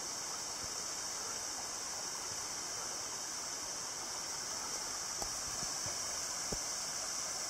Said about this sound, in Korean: 여기가 마지막 계곡이라고 그럽니다.